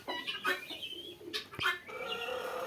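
Tiger breed chickens on a farm cluck and call in short, sharp bursts with cooing notes between them, fairly quiet and close, with no voices.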